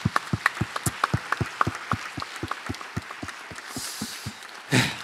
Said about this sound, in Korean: 우리 한밭제일교회로 불러주신 우리 하나님께 한번 영광의 박수 한번 올려드릴까요?